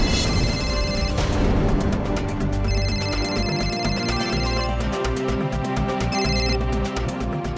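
A phone rings with a repeating electronic ringtone, loud and close, playing over a steady backing drone with bursts of melodic tones.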